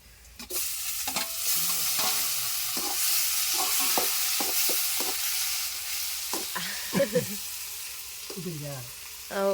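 Tomatoes sizzle steadily in a pan of brinjal curry, with a run of scraping spatula strokes stirring them through the hot oil, close and moderately loud.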